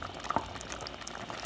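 Vegetarian chili with soy chorizo simmers in a Le Creuset Dutch oven, giving soft, irregular bubbling pops and small splutters over a quiet liquid hiss, with no talking.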